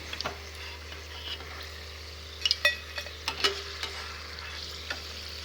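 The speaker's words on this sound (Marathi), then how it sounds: "छान अशी तळून घ्यायची मिरची मिरची आपली तळून झालेली आहे" Green chillies frying in hot oil, a low steady sizzle with close spoon stirs and clinks against the pan, no voices.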